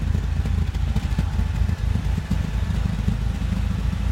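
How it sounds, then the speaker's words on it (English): A 1997 Oldsmobile Cutlass Supreme idles with a slightly rough exhaust note, giving a steady low rumble with faint uneven pulsing, close by and alone. "The engine sounds like it's running smooth, but out of the exhaust note it's a little rough."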